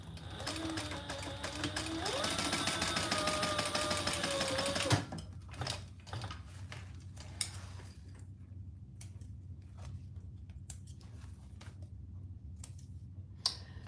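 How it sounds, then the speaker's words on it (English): Sewing machine top stitching leather beneath a card slot, a steady mechanical whirr that runs for about five seconds and then stops, leaving faint clicks and handling noises behind. "we're gonna top stitch underneath the third card slot"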